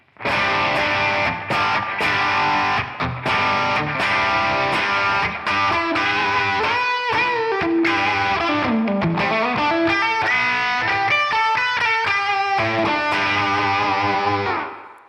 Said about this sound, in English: this is just a slapback and a room reverb that I have loaded into the LVX and the Mercury X